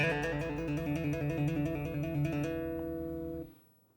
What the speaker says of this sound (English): a trill is basically a collection of hammer-ons and pull-offs performed in quick succession.